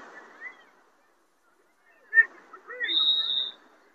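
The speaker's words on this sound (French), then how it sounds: "l'arbitre qui vient de siffler." A referee's single sharp, high whistle blast rings out briefly at an amateur football match amid faint crowd murmur and scattered quiet sounds.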